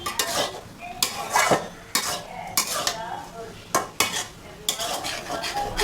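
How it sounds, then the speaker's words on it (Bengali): Shrimp and shredded cabbage are stirred in a hot pan with repeated scraping strokes of a spatula, roughly one every second, over a steady close sizzle, with no voices. "এখন একটু নেড়ে দেব, জালটা বাড়ানোই আছে।"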